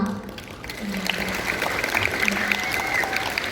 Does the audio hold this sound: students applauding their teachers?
yes